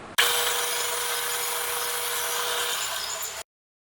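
A power saw cutting a wooden spoon blank, starting abruptly and holding a steady buzzing cut for about three seconds before stopping dead.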